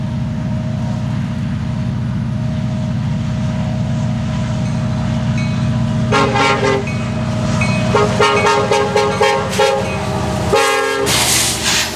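A southbound Kansas City Southern intermodal freight train bound from Shreveport, Louisiana, approaches in Texas under a constant low diesel rumble, then sounds its horn in several loud blasts, some long and some short, over the final half of the stretch.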